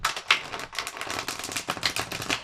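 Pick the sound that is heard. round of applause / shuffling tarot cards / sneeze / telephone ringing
shuffling tarot cards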